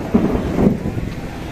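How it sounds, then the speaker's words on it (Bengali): Thunder rumbles low and close as rain begins at Dakshineswar Kali Temple in Kolkata, a short deep roll that fades out. "মেঘ ডাকছে"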